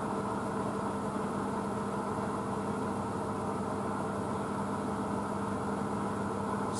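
A Blomberg WNF9448 washing machine spins at 400 RPM on a shortened cottons 40 wash, a steady close mechanical hum with a constant tonal whine and drum rumble, unchanging throughout with no voices.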